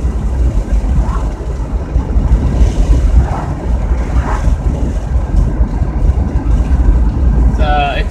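Van in motion on the road, a loud continuous low rumble of engine and road noise with wind buffeting the microphone, steady throughout, with a faint voice briefly audible underneath.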